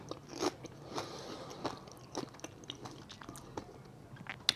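Crunchy air-fried chips being bitten and chewed up close, a series of sharp crisp crunches scattered irregularly with no talking.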